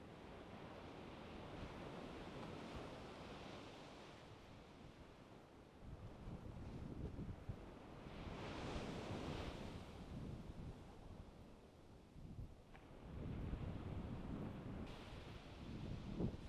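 Ocean waves and surf wash steadily along a Virginia shore while fishing, with wind buffeting the microphone and swells rising and falling in loudness over the span.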